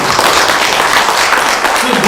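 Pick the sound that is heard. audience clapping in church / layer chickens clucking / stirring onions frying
audience clapping in church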